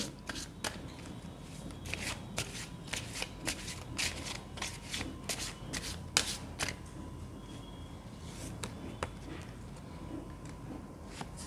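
Tarot cards being shuffled by hand, a close, continuous riffle of crisp paper flicks and snaps with irregular louder slaps, going on steadily with little talk.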